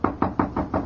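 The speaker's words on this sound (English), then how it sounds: "I'd better knock." Five quick knocks on an office door, crisp and close, in an even rapid rhythm over less than a second.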